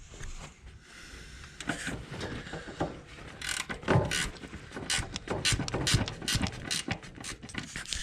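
A ratchet tightening the front axle of a John Deere L120 lawn tractor, close metallic clicking in short bursts with clanks of tool handling and some rattling, no talk.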